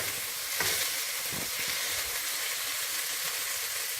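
Venison and sausage browning in a pan over a wood fire give a steady close sizzle and hiss, with a couple of brief scraping stirs early on and no voices.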